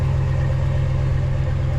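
A 4th-gen Ram 1500 with the 5.7 Hemi V8 idles with the muffler cut off and the resonator deleted. The exhaust gives a steady, loud, deep droning rumble with an even low pulse throughout, close by and with no talk.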